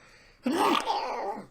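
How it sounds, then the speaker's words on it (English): A single sharp sneeze bursts out suddenly in a classroom after a moment of quiet, loud and close, trailing off over about a second. "That was a sneeze."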